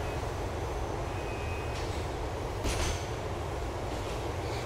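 A train ride in Grand Theft Auto IV rumbles along with a steady low rolling drone and rattling carriage noise, broken by a few brief hissing bursts, with no talking over it.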